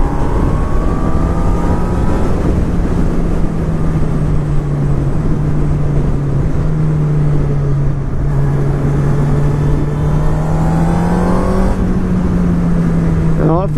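A 2019 Honda CB1000R Plus motorcycle being ridden along a road: a steady, loud engine drone holds a near-constant pitch with slight rises and dips, under continuous wind rush throughout.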